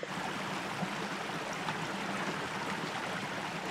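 A Scottish Highland burn beside a hill path, a close, steady broadband rush of flowing water that continues without a break throughout.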